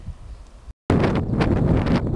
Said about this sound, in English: you'll probably hear the wind noise